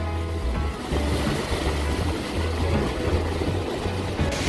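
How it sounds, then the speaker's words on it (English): Ocean waves surging into a rocky crevice by a beach, a loud continuous roar of rolling surf with swells rising and falling, mixed with wind buffeting the microphone, no voices. "Where you can look down and see the waves."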